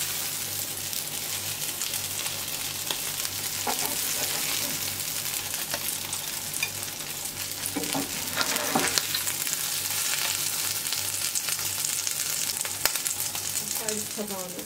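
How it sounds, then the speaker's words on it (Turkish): Breakfast food frying in a pan, one side browning in hot oil, with a steady close sizzle and crackle running throughout and brief stirring scrapes. "Bu tarafı da kızartıp alacağım."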